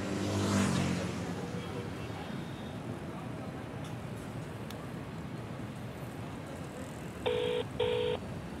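Two short electronic phone tones sound close together near the end, like keypad dialing on a mobile, heard faintly over a constant low rumble of passing road traffic.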